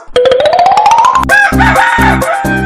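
A loud rooster crow on a TV comedy stage show, one long rising call, followed by a steady run of heavy rhythmic thumps.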